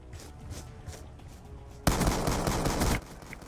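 Rapid automatic gunfire in the shooter game Black Ops 2, one loud burst lasting about a second after a quieter stretch of game ambience, with no talk.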